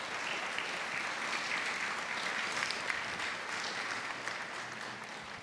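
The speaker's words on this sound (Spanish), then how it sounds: "Denle un aplauso al Señor" A church congregation applauding during a sermon, sustained, dense and even clapping from many hands, steady throughout and heard from some distance.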